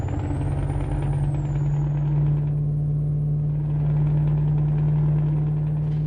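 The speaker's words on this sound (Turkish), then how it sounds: "Arabanın sesi uğulduyor" A steady, low V8 engine drone of a Scania S730 truck in Euro Truck Simulator 2 holds throughout, with a deep constant hum and rumble, loud and continuous.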